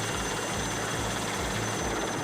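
An Indian Coast Guard helicopter flies over floodwaters near the River Ambika in Valsad, Gujarat, with a loud, continuous rotor thump and turbine roar pulsing steadily throughout.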